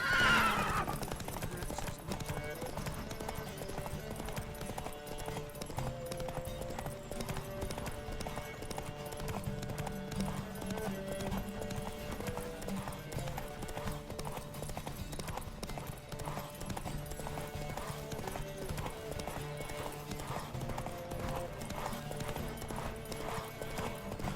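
Galloping hooves clatter in a steady rush alongside a horse's whinny during a horse race in The Witcher 3: Wild Hunt, set over continuous driving music, loud and sustained throughout.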